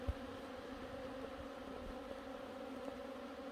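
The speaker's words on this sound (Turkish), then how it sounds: "Şerbetleme esnasında kovanın içi full arıyla doldu." Honeybees fill a hive during autumn sugar syrup feeding, a continuous low droning buzz from a dense mass of bees, close and steady with no voices.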